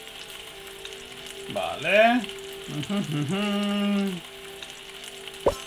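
A burger patty sizzles on a grill in the cooking video game Galaxy Burger, a steady low frying hiss running in the background beneath a voice speaking, with a brief sharp click near the end.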